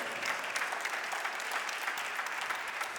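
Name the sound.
congregation applause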